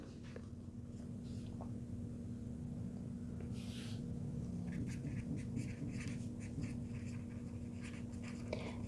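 Pen or pencil strokes scratch on paper as totals are written during a math lesson: quiet, close, intermittent scribbling bursts over a low steady room hum, with no speech.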